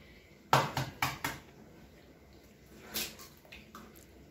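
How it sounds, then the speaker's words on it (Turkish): Eggs cracked for pancake batter give a few close, sharp taps and knocks against a hard edge, clustered at the start with another knock and a soft drip a few seconds later, in a quiet kitchen. "Öncelikle yumurta kıracağız."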